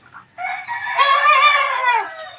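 Young gamecock stags crow in a backyard, one drawn-out crow rising after a short lead-in cluck, fairly close and alone with no talk.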